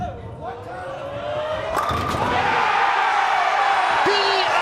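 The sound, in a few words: crowd cheering at a bowling strike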